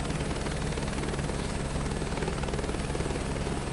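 An Airbus helicopter's engine and rotor in Microsoft Flight Simulator 2024, a loud steady whine and throbbing rotor drone holding level and continuous while waiting at the runway for an east departure.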